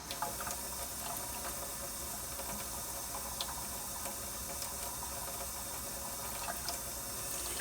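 Tap water runs steadily into a developing tank to rinse freshly developed film, a soft continuous hiss and trickle at low volume, alone with no talking.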